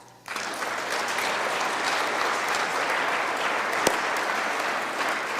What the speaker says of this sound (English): that's when everybody in this room needs to clap